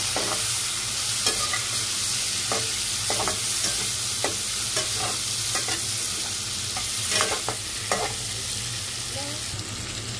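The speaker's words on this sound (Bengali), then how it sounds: "প্রথমে করলাগুলো একটু ভেজে নিব তেলের সাথে।" Bitter gourd frying in oil with turmeric and onion, a steady close sizzle broken by repeated scraping and stirring taps in an uneven rhythm, with no talking.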